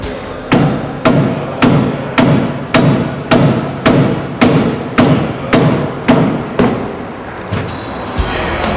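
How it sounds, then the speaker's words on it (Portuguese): A rubber mallet pounds the shock absorber base on a Ford EcoSport steering knuckle, about fourteen heavy, evenly spaced thuds heard up close, each with a short metallic ring. "para fazer o sacamento da base do amortecedor na manga de eixo, a gente vai utilizar uma marreta de borracha"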